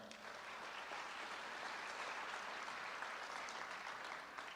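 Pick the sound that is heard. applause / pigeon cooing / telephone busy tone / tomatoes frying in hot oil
applause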